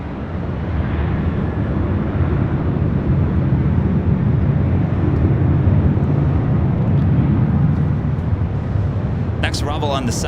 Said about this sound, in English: United Dreamliner taking off on 25 right.